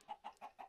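Four quick, evenly spaced clucks come from a chicken in the Minecraft video game. They are short, soft and rhythmic, with no talking.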